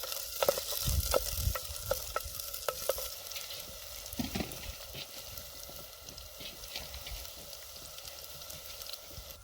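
Onion fries in a pan with a soft, steady crackling sizzle, broken by a run of stirring clicks and scrapes early on, at a fairly quiet, close level.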